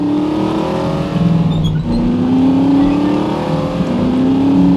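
Car driving in The Saboteur video game, a loud engine droning and rising through gear shifts with rising pitch sweeps, steady and close throughout.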